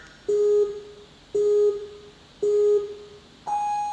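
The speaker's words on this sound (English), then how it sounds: "So you have the normal sounds for 3, 2, 1, go" A course start timer sounds three identical mid-pitched countdown beeps about a second apart, followed by a higher-pitched go tone, clear and loud with no talking.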